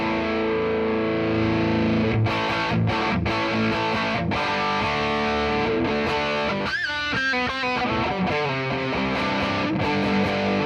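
Distorted electric guitar through a Caline 10-band graphic EQ pedal boosted with gain raised, playing sustained chords and riffs, loud and thick with a saturated tone, continuous throughout with no talking.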